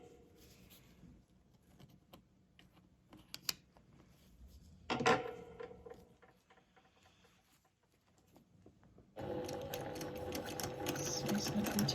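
A home sewing machine stitches slowly while doing free-motion quilting with a Westalee ruler, its motor hum starting and stopping in short bursts, then running steadily and louder near the end, close up with no talk.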